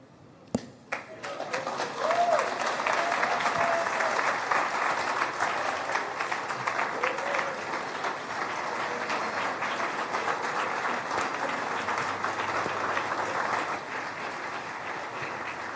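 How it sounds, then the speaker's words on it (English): At a Nigerian national forum, an audience breaks into sustained applause after a few isolated claps, a dense steady roar of hands that tapers off toward the end. "another round of applause, please, for Dr. Abah"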